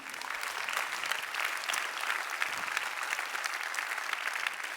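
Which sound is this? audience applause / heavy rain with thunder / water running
audience applause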